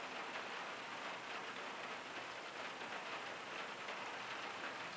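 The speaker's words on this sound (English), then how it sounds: "Can you guys hear the rain on my skylight?" Steady, dense rain drumming on a skylight, a continuous even hiss heard from indoors with no voices or breaks.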